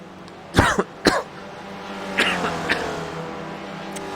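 A few sharp coughs come in two short clusters, fairly close, over a low racing-car engine drone in the background of a sim-racing broadcast.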